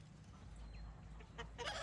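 Chickens in a backyard flock, a little unsettled by a newly arrived bird, give soft low clucks with a brief louder burst of calls near the end, close by over steady background noise.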